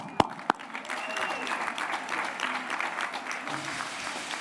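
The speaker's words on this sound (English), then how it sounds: "Let's give them a round of applause" Graduation-ceremony crowd at Union High School applauds the Class of 2021's supporters. Steady, moderately distant clapping follows a couple of sharp knocks at the start, with faint voices underneath.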